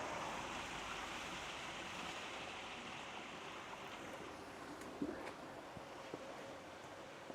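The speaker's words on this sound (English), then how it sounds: "Per the directions, it says dump the black tank." Steady rushing water from an RV black tank being dumped and draining, a constant hiss-like flow with a few faint knocks, fairly quiet and without talk.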